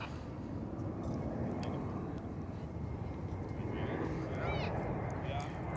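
An American Airlines airliner approaches at Dallas/Fort Worth Airport, a broad steady engine roar that grows slightly louder, heard from a distance with wind-like rumble.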